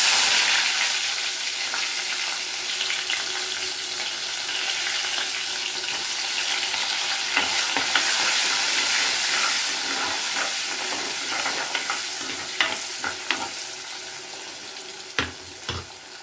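Finely chopped small onions fry in hot oil for an eggplant gravy, a loud, continuous sizzle and hiss with occasional scraping clicks as they are stirred in the pan.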